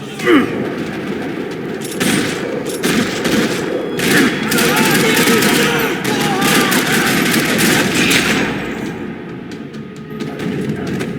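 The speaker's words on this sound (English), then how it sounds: "Another parking lot rattling with gunfire." Sustained rapid gunfire rattles continuously in Max Payne 3 across a parking lot, bursts of automatic shots blending into a dense, loud barrage with no pauses.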